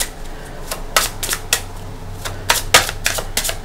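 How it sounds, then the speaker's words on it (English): Tarot deck, major arcana cards, being shuffled in a quiet room: a series of short papery riffles and taps, some in quick pairs, spaced irregularly, with no talking. "give them a few shuffles"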